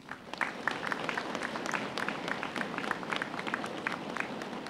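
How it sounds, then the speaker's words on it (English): Fairly faint applause from the audience at an FDNY probationary firefighters' graduation ceremony, a sustained patter of many hands with sharper individual claps standing out, continuing steadily from start to finish. "your family and friends deserve a strong round of applause from you"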